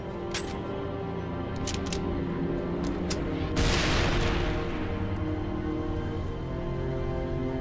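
Gunfire in the video game Halo 3 ODST: several sharp separate shots, then a louder burst or boom in the middle over a steady hum of game background sound.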